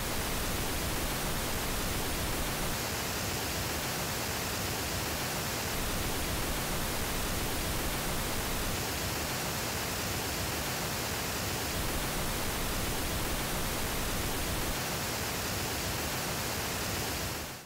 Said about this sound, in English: this new version of pink noise that takes into account the frequency response of the speaker on axis